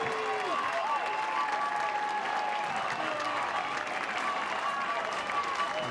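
A college softball crowd at the 2024 NCAA regional final between Missouri and Omaha roars and applauds after a strikeout, loud sustained cheering and clapping with whistles throughout.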